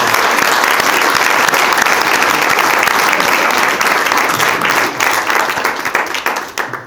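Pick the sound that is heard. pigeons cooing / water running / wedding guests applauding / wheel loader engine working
wedding guests applauding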